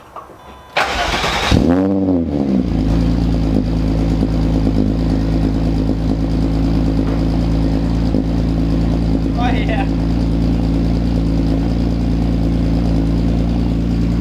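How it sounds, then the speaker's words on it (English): A Volkswagen VR6 car engine cold-starts with a cranking burst, catches and settles into a loud, steady idle with a brief rev partway through; someone speaks briefly over it. "The sound of a VR6 never gets old."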